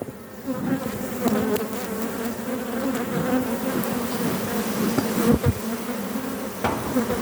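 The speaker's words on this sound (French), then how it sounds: "Bon, il y a pas mal d'abeilles." Dense, steady buzzing of many honeybees at an open beehive, heard up close and continuous throughout, with a few faint knocks from handling the hive frames.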